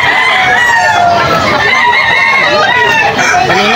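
Roosters and chickens at a poultry market in Bocaue, Bulacan, on a rainy day: loud, overlapping crowing and clucking fill the whole stretch, with faint voices murmuring in the background.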